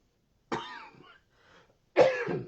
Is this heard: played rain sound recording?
no